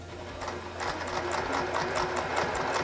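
Sewing machine stitching fabric for a blessing bag, a steady rapid run of needle strokes that holds continuously at close range with no talking.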